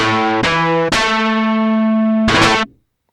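A Korg Kronos sample-based FM synthesizer plays a few sustained notes in sequence, bright and buzzy, harmonically rich with a sharp attack, then cuts off abruptly into silence.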